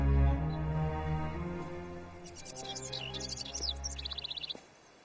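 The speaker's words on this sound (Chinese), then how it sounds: "啊，鸟儿叫的都动听啊！" Birds in a southern Chinese riverside landscape twitter in quick, bright chirps and short trills midway through, fairly faint and set under a sustained musical drone.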